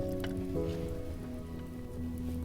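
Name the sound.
rain falling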